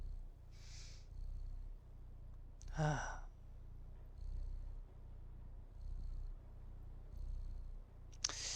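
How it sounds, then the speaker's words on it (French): A cat purrs in the video game Stray, a low steady rumble running under soft ambient game sounds, with a brief sigh-like vocal and a few faint chimes. "Apprécier, juste apprécier pendant quelques instants son ronronnement."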